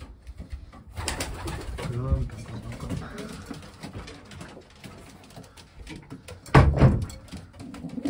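Racing pigeons in a small breeding loft give off soft, intermittent coos and rustles, with someone talking over them throughout and a brief louder knock or flutter near the end.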